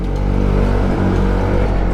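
A truck grinds up a steep mountain road in Luzon, its loud, steady low engine drone filling the whole short stretch with no talking.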